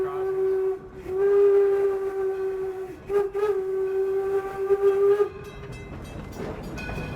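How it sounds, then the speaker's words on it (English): A steam locomotive whistle, sounded from the cab of a preserved engine at the Henry Ford Museum, gives one loud, sustained, steady chime-like blast lasting about five seconds, with a brief waver midway, then trails off into background noise. "we ring the bell and blow the whistles at all our railroad"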